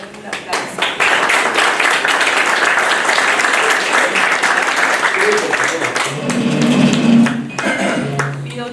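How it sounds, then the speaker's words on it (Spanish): Audience applause at a talk with a maritime, port and naval industry federation, a full steady round of clapping that rises and then thins, with a few voices and clinks breaking through toward the end. "un aplauso"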